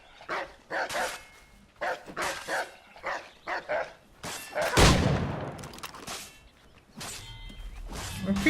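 A dog barks repeatedly in Assassin's Creed Shadows, a string of sharp, loud, evenly spaced woofs close by, followed by a heavier impact and a few more barks.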